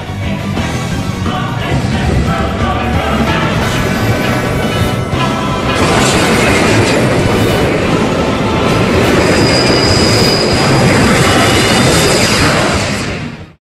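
Loud, continuous rumble of a moving train with rhythmic wheel clatter, growing rougher partway through, plus a thin metallic squeal near the end.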